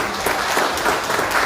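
An audience at an award ceremony claps, a short burst of dense, lively applause from a crowd that fills the room evenly, with no one speaking over it.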